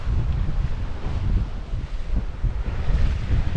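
Strong wind roars at sea off Norway aboard a sailing boat, a loud, continuous rushing gust with buffeting microphone noise and the wash of waves beneath.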